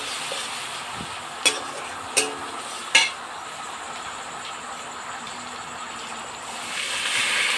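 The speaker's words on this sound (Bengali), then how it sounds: "কড়াইতে সাদা তেল দিয়ে ওটার মধ্যে আদা, রসুন আর কাঁচা লঙ্কা কুচি দিয়ে একটু ভালো করে ভেজে নেবে।" Ginger, garlic and green chilli fry in white oil in a home wok, a steady soft sizzle with a few sharp clinks of a utensil against the pan, the sizzle swelling slightly near the end.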